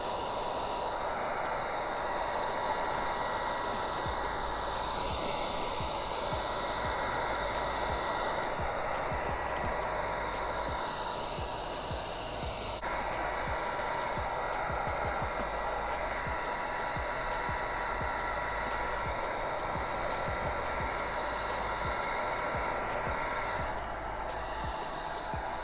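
A heat gun runs steadily with a loud, constant blowing roar while softening a BMW part, the airflow holding even for the whole stretch with slight shifts in pitch and no talking.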